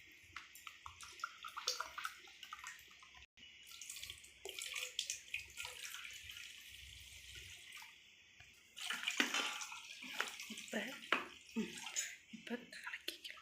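Water is poured into a jug for homemade juice, giving a continuous splashing rush that swells louder partway through, with a faint voice now and then in the background.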